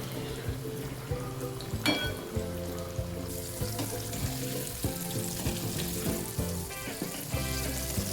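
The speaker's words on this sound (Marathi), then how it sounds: "एका कढईमध्ये पनीर फ्राय करून घेण्यासाठी तेल घालायचं आहे तेल चांगलं गरम झालं की कोटिंग लावलेलं पनीर मिडियम हाय फ्लेमवर तळून घ्यायचं आहे" Coated paneer deep frying in hot oil in a wok over a medium-high flame, a continuous crackling sizzle with scattered pops and bubbling throughout, growing denser partway through, without speech.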